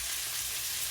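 Brussels sprouts sizzling in butter with crushed red pepper flakes over turned-down heat, a steady, close hiss of frying with no talk over it.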